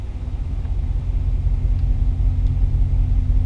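A RAM 1500 Hemi pickup idling with its electric exhaust cutout open, giving a steady deep rumble that grows slightly fuller partway through; close, continuous, no revving.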